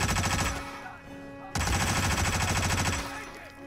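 Rapid pistol shots in the stealth video game Hitman, fired in two dense, fast runs with a short break between them, loud and close with a steady mechanical rhythm.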